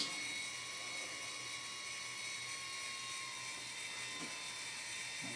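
A small quadcopter's number 3 motor on a 200-size mini racing frame spins clockwise, giving a steady, high-pitched electric whine with a faint ratcheting buzz, constant and close throughout with no talk.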